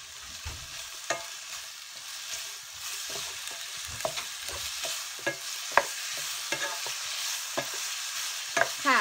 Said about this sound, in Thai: แล้วก็ผัดให้เข้ากันอีกที